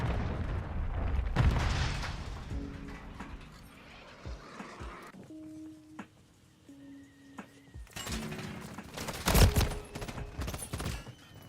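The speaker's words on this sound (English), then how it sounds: "Friendly cruise missile approaching target" Cruise missile strikes hit their target in a military shooter game: rumbling, crackling blasts roll loudly at the opening, the action eases into quieter tones and beeps, and then a second heavy burst of explosions breaks out near the end.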